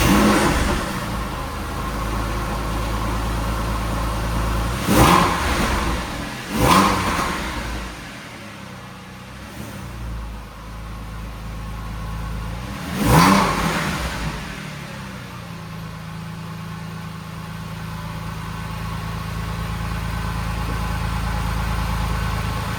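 A Porsche 911 Carrera in a wash bay rumbles at a steady idle, with three short revving bursts, two close together early and one later, before settling back to a low, even hum.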